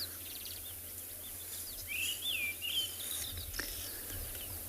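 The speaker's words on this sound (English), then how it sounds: "I think it's actually the white-browed scrub robin again. In fact, it's definitely a scrub robin." A white-browed scrub robin calls on a sunrise safari at Tswalu in the Kalahari, giving a few faint, clear whistled phrases over soft insect hum and quiet background.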